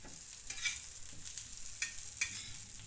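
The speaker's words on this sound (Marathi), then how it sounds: "ह्याला थोडंसं फ्राय करते" Aloo tikki fry in oil on a gas stove with a continuous bright hiss and crackle, and a few louder scrapes or flips standing out briefly, close by with no talking.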